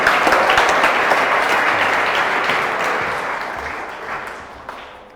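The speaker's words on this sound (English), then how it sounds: "big round of applause for the very first pitcher tonight" Applause for the first pitcher at a live startup pitch event, a dense wash of clapping from a crowd that stays loud and steady before slowly fading toward the end.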